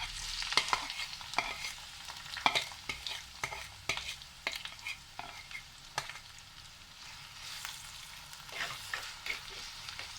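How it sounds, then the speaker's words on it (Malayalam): Crushed ingredients sizzle and fry in coconut oil in a clay pot for a Kochi-style sardine curry, with a spatula stirring and scraping in frequent sharp clinks over a steady frying hiss. "ഇനി നമുക്ക് ഈ ചതച്ചത് വെച്ച എല്ലാം ചേർത്ത് കൊടുക്കാം."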